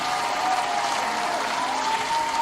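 Applause for a chess player at an international blitz tournament, a steady even patter of clapping hands from a small group, moderately near and continuous with no talk over it.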